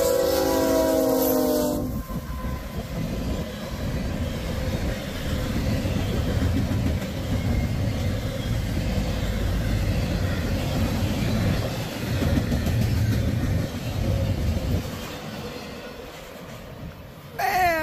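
A Norfolk Southern freight train blasts its horn in a brief loud burst, then rolls past with a long, continuous rumble and clatter of wagons up close, steady throughout with a faint squeal near the end.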